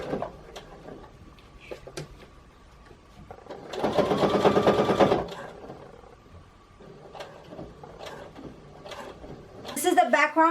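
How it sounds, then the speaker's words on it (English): Sewing machine stitching the last row of a mini quilt, a short, close, buzzing burst of rapid needle strokes lasting about a second and a half, with handling clicks and rustles around it. "going to stitch the last row here."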